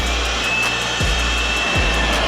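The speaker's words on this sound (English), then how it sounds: "Grab the air blower." An air blower runs steadily near a hot car exhaust, likely during a Max Cobra exhaust install, producing a loud continuous whooshing roar with a faint periodic rumble underneath and no voices.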